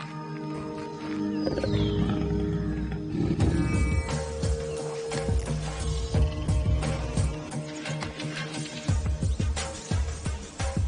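A black panther (melanistic leopard) gives rasping, roaring calls in the wild, the repeated grunts rising and falling over a busy outdoor background.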